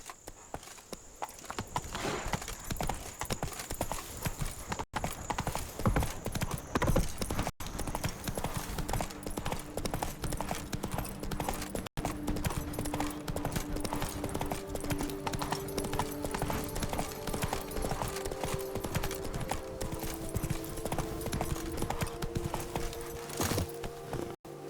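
Horse hooves clip-clop at a steady gallop through The Witcher 3's Blood and Wine expansion, a continuous rhythmic drumming held close and loud for the whole stretch, with a brief whinny and faint game ambience beneath.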